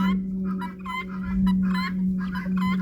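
A backyard hen clucks in short repeated bursts, close and fairly loud, with a steady electrical hum underneath and a few pauses between calls.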